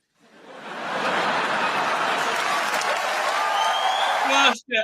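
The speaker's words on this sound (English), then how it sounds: "And Mark Hamill claps." Mark Hamill joins a steady wash of applause that swells quickly and holds for several seconds, full and close, with some chuckling mixed in before it cuts off abruptly.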